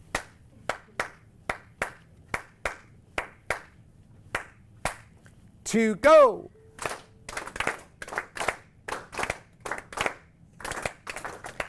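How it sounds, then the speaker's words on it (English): Hand claps beat out short rhythmic patterns in a ukulele class, repeated back and forth as call and response; crisp, evenly spaced claps alone, with a brief spoken voice in the middle before a denser group clapping passage. "Ladies and gentlemen, can you clap this after me?"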